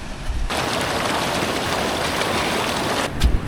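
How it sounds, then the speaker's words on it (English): A waterfall on a wet winter trail in Snowdonia, a steady broadband rush of falling water that fills the whole stretch at close range with no talk over it. "our first waterfall."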